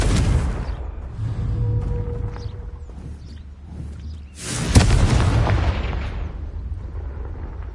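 A Confringo fire spell bursts in a Harry Potter video game, a loud explosive boom with a sharp onset near the middle, followed by a sustained roaring rumble over a busy background of game sounds.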